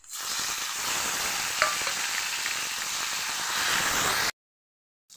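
Chopped tomatoes dropped into garlic already browned in hot oil in a pan, giving a loud, steady, close sizzle that fills the air for several seconds before cutting off abruptly.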